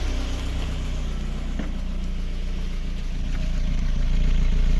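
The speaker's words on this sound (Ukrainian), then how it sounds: "не пердить, не кашляє, рівненький вихлоп" The exhaust of a VAZ 21099 runs smoothly at idle, a steady, even low pulsing with no coughing or popping that grows a little louder toward the end, with no voices.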